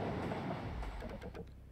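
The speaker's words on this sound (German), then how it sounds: "Hört ihr das? Das war ein Zug." A train passes in the video game Eastward with a steady low rumble and a few faint rhythmic clacks, moderately quiet and alone.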